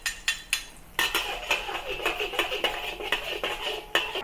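Sichuan spices dropped into hot oil in a wok for an eggplant and mushroom stir-fry, heard as sharp metallic clinks and scrapes against a steady sizzle, with repeated utensil taps near the mic.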